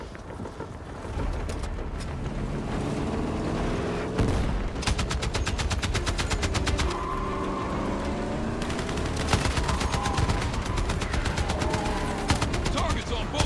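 Video game gunfire in Battlefield 6, with steady automatic rifle bursts and scattered shots crackling through a combat soundscape while voices call out between the volleys.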